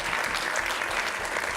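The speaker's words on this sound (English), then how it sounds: "Give him a round of applause" An audience at a motivational speech claps steadily in a dense, continuous wash of applause, loud and even throughout with no talking over it.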